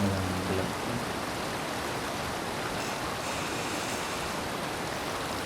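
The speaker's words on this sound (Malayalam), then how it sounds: "പിന്നെ ഈ ഒരു വെള്ളം നേരെ ഒഴുകി ചെല്ലുന്ന കായലിലോട്ടാണ്." Steady, close rushing of water flowing down toward a backwater lake near Varkala, a dense unbroken wash of sound with no voices.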